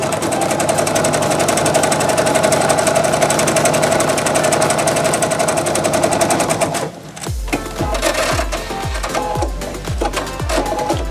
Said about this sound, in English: So I'm just sewing a 1/4 inch seam.